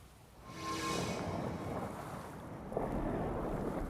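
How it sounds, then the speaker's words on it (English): Steady north wind gusting over open water on the St. Johns River during a bass fishing tournament, a broad roaring rush buffeting the microphone that swells and stays strong throughout, with no voices. "That north wind blowing in the bottom of Crescent."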